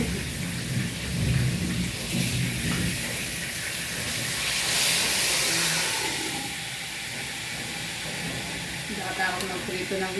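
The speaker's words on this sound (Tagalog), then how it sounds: "Lakas ng ulan ngayon dito." Heavy rain pours steadily with rumbles of thunder rolling in the distance, a dense continuous wash of sound with a faint voice in the background.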